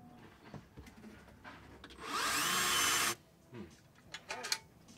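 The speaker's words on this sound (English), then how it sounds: "got me a 90-degree angle drill" A right-angle drill whirs up for about a second, a loud steady spin between quieter shuffling and handling noises, aboard a sailboat.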